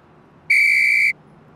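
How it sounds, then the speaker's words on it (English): Police whistle blown by monkeys in a children's cartoon: a single shrill, steady blast of about half a second, loud and alone against quiet background. "And whatever you do, do not blow my whistle."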